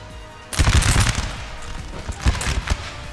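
Musket volleys and artillery fire from a Napoleon Total War battle, a sudden loud burst of crackling gunfire followed by rolling, overlapping shots and booming blasts continuing throughout.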